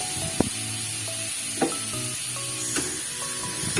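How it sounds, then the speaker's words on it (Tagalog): Bitter gourd is added to a pan of sizzling sautéed tomato, garlic and onion, producing a continuous loud sizzle with a few sharp utensil clacks against the pan and no talk. "Direct na po natin, ilalagay na po natin sa ating ginisang kamatis, bawang at sibuyas."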